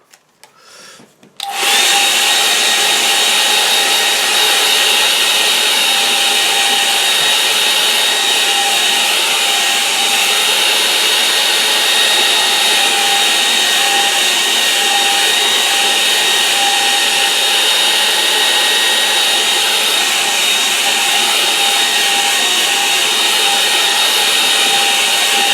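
A hair dryer blows a steady, loud whoosh over a watercolour hills-and-lake painting, switching on after a brief moment and running continuously with a constant whine.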